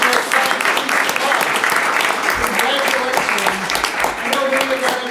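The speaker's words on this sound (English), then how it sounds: "One last round of applause." Audience members at a high school board of education meeting applaud steadily for several seconds, with the clapping mixed with voices and some background talk.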